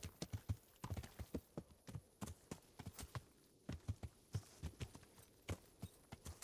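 Steady clip-clop of horse hooves trotting close by in the video game Skyrim, a quick regular beat of sharp knocks with little else around.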